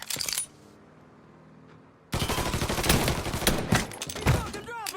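A shootout in Mafia 3 on PS4: a short burst of shots, a lull of low ambience, then a sustained barrage of loud, close gunfire with crackling reports and brief voices mixed in.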